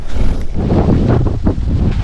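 Strong wind buffets the microphone at a lakeside camping site in Cavinti, Laguna, a loud continuous roar with gusting surges throughout.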